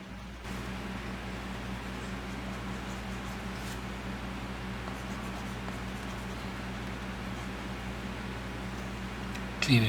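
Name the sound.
drawing with a stylus pen on an iPad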